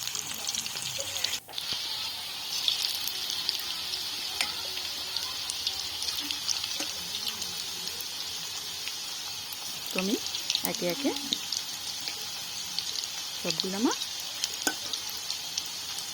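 Meat piyaju balls frying in hot oil in a wok, a steady bright sizzle running throughout while someone talks over it, with a brief thump near the start.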